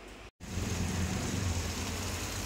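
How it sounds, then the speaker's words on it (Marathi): Steady rain falls outdoors, a continuous close, even wash of noise that briefly cuts out near the start, then carries on unbroken with no talk over it. "बाहेर मस्त असा पाऊस"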